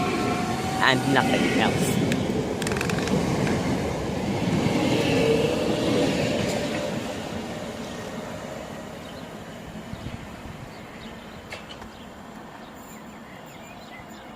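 Class 465 Networker electric train, unit 465907, at Swanley station, with a loud rumbling roar for the first six seconds that then fades to a quieter hum, and a voice speaking briefly.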